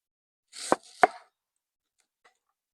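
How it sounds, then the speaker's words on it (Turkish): Two sharp knife chops slicing onion on a cutting board, close and distinct, followed by a faint tap and silence. "Soğanım piyazlık doğrayacağım."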